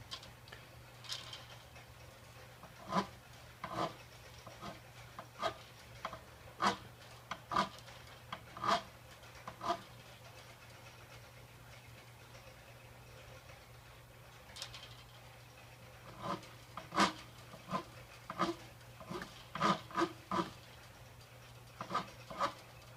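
Fingerboard edge of a Hofner violin bass being rolled with a tool, heard as quiet rubbing and rasping strokes in irregular bursts, close up over a steady low hum, with no voices.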